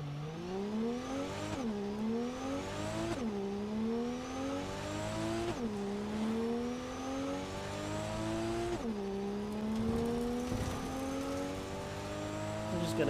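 Shion Coyote car in Cyberpunk 2077 driving with its engine revving and shifting through gears repeatedly, each rise in pitch dropping at the next shift, loud and steady throughout.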